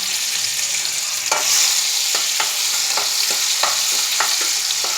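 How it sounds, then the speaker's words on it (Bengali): Prawns frying in a pan with green chilli, a loud steady hiss of hot oil broken by regular scraping strokes of a spatula stirring the pan. "এর মধ্যে এবার ভাজতে হবে চিংড়ি মাছগুলোও দিয়ে দিই, ওগুলো একটু একটু ভাজা হয়ে যাবে।"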